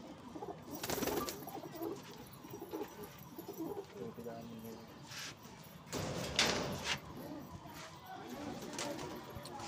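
Pigeons coo softly in short bursts against a busy outdoor background in Lucknow, with a couple of brief clatters and faint voices nearby.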